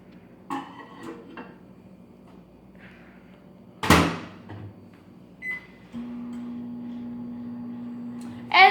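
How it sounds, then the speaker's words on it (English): Microwave oven cooking homemade potato chips, a low steady hum that starts partway through, preceded by faint clicks and a sharp door thud, ending with a brief beep. "So now we're gonna put it in our microwave."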